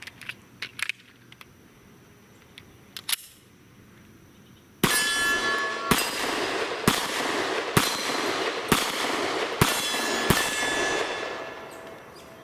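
A Smith & Wesson M&P Shield M2.0 pistol fitted with a .357 Sig conversion barrel fires six or seven sharp, loud shots at a steady pace outdoors, each one followed by a brief ringing decay, with a few faint clinks before the string begins.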